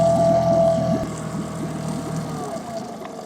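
An outboard motor on an inflatable fishing boat in the mangroves catches and runs, giving a close, steady mechanical drone that shifts in tone as it settles, with wind noise in the background.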